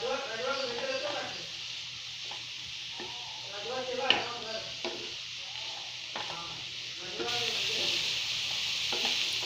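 Shredded cabbage sautéing in a pan for vegetable momo stuffing, with a soft sizzle and scraping stirs while a person talks over it, and the frying hiss grows louder toward the end.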